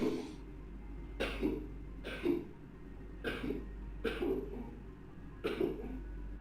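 Six coughs come at roughly one-second intervals, each a short harsh burst over a steady low hum, evenly paced and mechanical, from a character in the video game Home Safety Hotline: Seasonal Worker.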